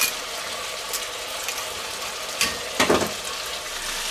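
Chicken pieces fry in a pot with a steady, moderately loud sizzle and crackle, and a couple of clinks and scrapes from stirring come near the end.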